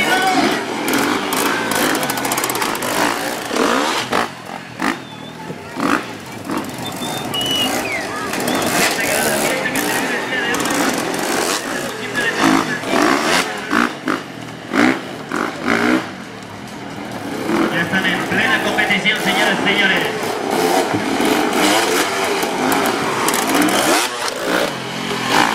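Enduro competition motorcycles race past, engines revving and buzzing loudly and fading in waves, while a commentator talks over the roar and a crowd whistles in the background.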